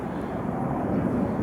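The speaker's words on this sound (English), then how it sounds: "As you can hear the aircraft flying overhead because we're right next door to RAF Coningsby." A steady, continuous rumble from aircraft flying overhead next to RAF Coningsby, heard from the grounds of Tattershall Castle, a brick manor tower with a moat. The drone stays even and fairly loud throughout, with no pauses.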